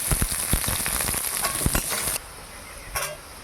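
Chopped onion with dried red chillies, whole cumin and bay leaf dropped into hot mustard oil, giving a loud, crackling sizzle with sharp pops that drops abruptly to a quieter steady frying hiss.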